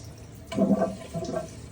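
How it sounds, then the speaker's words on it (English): Water rushes briefly through an RV toilet during a flush while the bowl sprayer runs, a short splashing gush that swells and then fades, heard up close. "you pull the handle and then you push down on the lever, and the water comes out with the sprayer"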